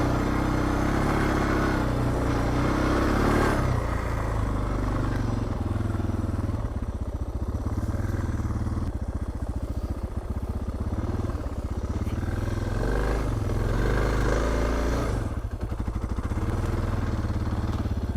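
A Suzuki DR650 motorcycle rides through muddy four-wheeler tracks on dirt, its single-cylinder engine thumping loud and steady throughout with slight rises and falls in revs and some clatter.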